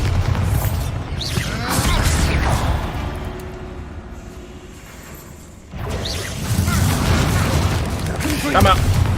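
Bombarda blasting spell explosions in a Harry Potter video game, loud booming blasts with crashing debris, a quieter stretch in the middle before more heavy bursts return, with a voice talking over the action.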